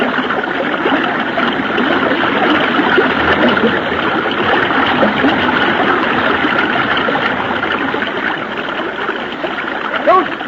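Rushing river water churns and splashes steadily throughout as someone kicks in it, a constant close wash of flowing current with faint voices mixed in.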